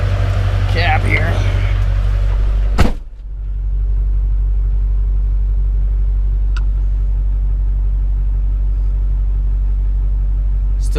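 A Duramax diesel pickup truck engine with a replaced exhaust stack idles with a steady low rumble, as heard from inside the cab, with a brief loud thump early on and faint clicks over the constant drone.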